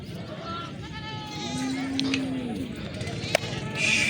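Goat bleating at a livestock market in Chakwal, one drawn-out bleat in the middle over busy crowd murmur and a voice talking, with a sharp knock near the end.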